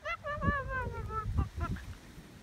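Chickens honk and call nearby in a burst of several loud, harsh calls on a farm by a lake. Some voice sounds are mixed in.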